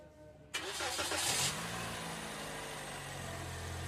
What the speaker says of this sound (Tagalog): Tapos papa-start ko na kay customer itong makina.